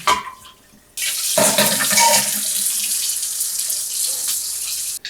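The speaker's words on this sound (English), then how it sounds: "I'll move over to the sink and get some cold water on these." Cold water gushing from a kitchen sink tap onto eggs, starting with a faint trickle then turning on to a loud, steady splashing stream that runs continuously before cutting off.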